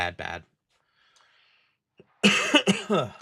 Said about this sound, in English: I don't know why I have this stupid cough.